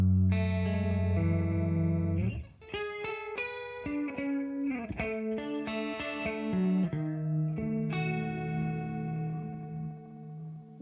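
Electric guitar played through a buzzy distortion amp plugin, with sustained chords and then a run of choppy, shifting chords and riffs, loud, gritty and up close, with no talking.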